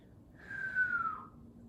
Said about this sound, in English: I didn't mean to whistle.